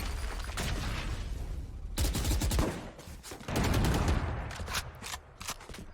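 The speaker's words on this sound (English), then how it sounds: "Link will pull out the pistol and gets a double with the pistol." Rapid, sharp pistol shots crack out in a Valorant match, firing in bursts with short gaps between them, fairly loud against a busy game background.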